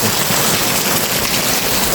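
Heavy rain pours steadily during a river flood, a dense continuous hiss with no breaks, fairly loud and close throughout.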